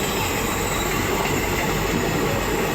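A passenger train rolls along the rails in a loud, continuous rumble with a faint metallic rattle of wheels, heard close by without speech.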